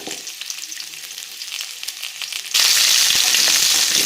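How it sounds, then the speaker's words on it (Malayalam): Gooseberries fry in sesame oil with a steady sizzle, then a sudden loud surge of hissing crackle as the pan is stirred or heat rises, close and continuous with no voices. "ഏകദേശം 4-5 മിനിറ്റ് നന്നായിട്ട് വഴറ്റിയെടുക്കാം. നെല്ലിക്ക നല്ലെണ്ണയിൽ കിടന്ന് നന്നായിട്ട്"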